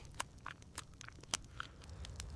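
A Neanderthal slowly chewing organ meat inside a cave gives a few quiet, wet bites and crunchy chews scattered across a soft, faint background with no talking.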